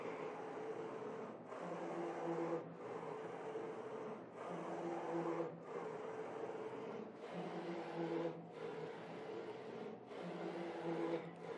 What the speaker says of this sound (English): So once we click print, the carriage start move print, and the table start to move to front to normal printing.